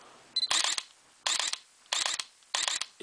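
Sony NEX mirrorless camera shutter releasing, heard as four separate quick mechanical clicks spaced about half a second apart, crisp and close with quiet between them.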